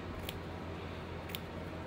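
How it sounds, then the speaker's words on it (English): Scissors snip through quilting fabric for a Dutchman's Puzzle quilt block, two crisp separate cuts about a second apart, close and clear over a quiet room. "So I'm just going to use my scissors."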